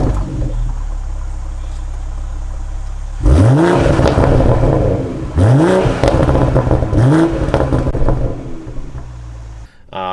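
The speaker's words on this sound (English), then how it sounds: "the exhaust note that comes from this thing gives me goosebumps" A 2020 BMW M340i engine idles, then revs hard three times in quick succession, each rev climbing and falling with a throaty exhaust burble.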